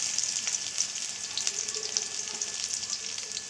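Onions frying in a pan of hot oil with dried red chillies, a steady broadband sizzle with faint crackles throughout, close and moderately loud, no voices.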